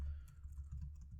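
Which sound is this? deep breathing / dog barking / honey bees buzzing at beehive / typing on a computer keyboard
typing on a computer keyboard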